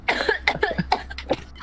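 A person coughing repeatedly in a quick, uneven series of harsh bursts, close and fairly loud, during a game of Golf With Your Friends.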